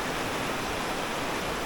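A snowmelt-fed mountain stream at a picnic spot in Arunachal Pradesh rushes in a dense, steady wash of water noise, loud and close without pause.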